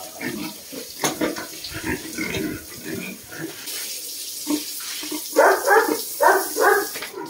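Sows grunting on a pig farm, a series of close, rough grunts and snorts that grow louder and more frequent toward the end, mixed with running water.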